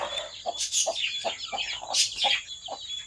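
Hens on a poultry farm cluck in a steady run of short, repeated calls, fairly close, with chirping birds and a thin background hum behind them.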